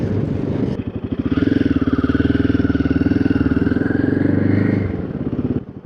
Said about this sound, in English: So as you saw, it is a fairly stable bike.